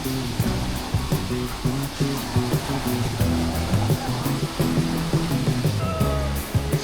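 Steady, full roar of the Kapas Biru waterfall in Lumajang, a constant rushing wash of falling water heard up close and alone, with faint repeating low tones running underneath.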